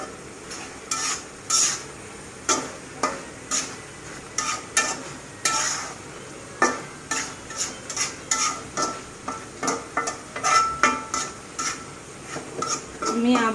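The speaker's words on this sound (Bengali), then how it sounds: "মাঝে আবার এভাবে আমি একটু নেড়ে দেব, না হলে লেগে যাওয়ার সম্ভাবনা আছে" A spoon stirs a pot of boal fish curry with shapla stems, giving repeated close scraping and clinking strokes in an uneven rhythm over a soft simmering hiss, with no talking.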